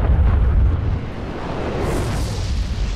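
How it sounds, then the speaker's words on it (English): A grenade explodes in the video game Destiny, a loud low boom that fades into a rumbling, hissing tail. "He threw a grenade."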